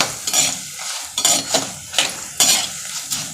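About eight dried red chilies and coriander seeds for a Tirunelveli-style thuvaiyal fry in a pan, with a soft sizzle under repeated scraping stirs. A spoon scrapes the pan in a steady, uneven rhythm, close and clear.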